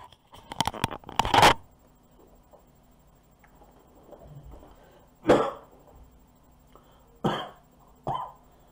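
A burst of harsh coughs from a person with a cold at the start, followed by a few more single coughs spaced apart, with quiet rustling between them.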